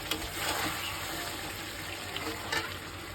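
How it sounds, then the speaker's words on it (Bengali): Meat being sautéed (kosha) in a pan, with a steady close sizzle and a few faint scraping stirs, no talking. "এই দেখো আমি এখন মাংস কষাচ্ছি"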